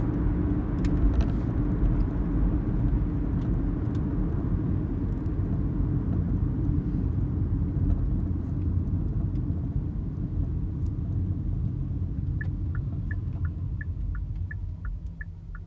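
Hyundai Ioniq hybrid cruising on its electric motor at around 60, a steady low road rumble and tyre hum from inside the cabin, continuous and even throughout with faint light ticks near the end.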